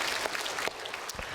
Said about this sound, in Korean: 우리 장로님께 여러분 박수 한번 해주시면 고맙겠습니다.